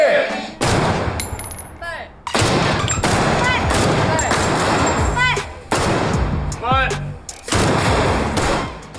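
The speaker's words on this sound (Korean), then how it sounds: "드디어 다가온 실탄 사격까지 준비된 사수로부터 0점 사격 개시" Live-fire rifle shooting practice at a military range, loud close bursts of rapid gunfire repeating in volleys with brief gaps, other shots echoing around them.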